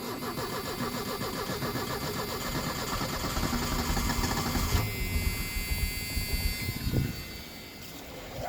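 A 1986 Ford Mustang SVO cranks over and fires on a cold start, the starter's rhythmic churn giving way to a steady, close idle that stays loud and even with no talking.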